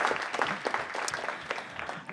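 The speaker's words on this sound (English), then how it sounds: "Please give him a round of applause." A room at a council meeting breaks into steady applause for a guest who has just given the invocation, a dense patter of many hands clapping at moderate volume with no talking over it.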